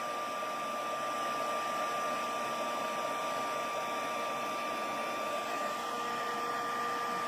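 A heat tool blows steadily while melting and setting embossing powder on a stamped card, a continuous even whirring hiss with a faint constant whine, at moderate level and with no talking.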